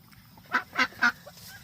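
Ducks in a farm duck pen give three loud, closely spaced honking quacks, each one short and distinct, with quiet background between them and no talking.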